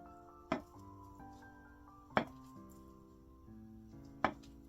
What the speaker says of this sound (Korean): 먼저 두부를 썰어보도록 할게요